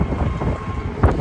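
Wind buffets the microphone with a low, blustery rumble that swells briefly near the end.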